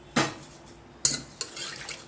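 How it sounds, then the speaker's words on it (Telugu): Moong dal is rinsed in water in a cooker before cooking for payasam, with three brief sloshing, clinking splashes of grains and water against the metal vessel, close and isolated, with quiet gaps between. "ఒక రెండు సార్లు శుభ్రంగా కడుక్కోవాలి"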